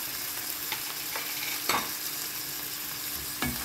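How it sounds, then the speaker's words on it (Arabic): Onion and garlic sauté in a pan with a steady, moderate sizzle, broken by a few scraping stirs of a utensil, and no one speaking. "البصله كده بص هي بتتشوح اهي، بتاخد اللون الذهبي تمام"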